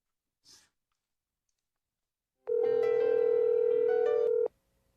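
A Webex Calling phone call placed with an ESM prefix: a brief click, then a steady ringback tone sounds clearly and alone for about two seconds before cutting off.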